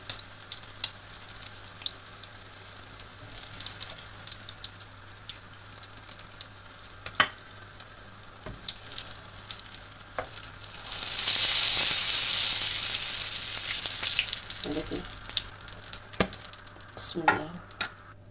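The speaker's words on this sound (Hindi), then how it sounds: "चलें इनको फ्राई कर लो" Kebab pieces frying again in hot oil, a steady crackling sizzle that swells loudly for a few seconds midway, with occasional utensil clinks and stirring scrapes around it.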